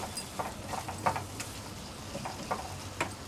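Cauliflower and potato being stirred in hot oil in a pan, soft intermittent scraping and light sizzling strokes repeating every half second or so, quiet and close, with no talking.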